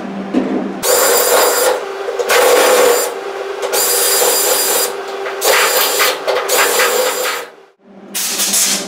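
Loud bursts of a power drill with a flattened drill bit grinding paint out of holes in a Triumph Spitfire body during restoration, several runs separated by short pauses, with a steady motor hum underneath.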